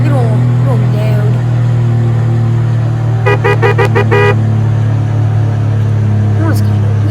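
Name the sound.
weak car horn honking in Roblox video game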